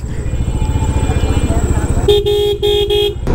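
Double horn on a GPX Demon 250cc motorcycle blares in several short, loud honks near the end, after a stretch of idling engine rumble and a person talking.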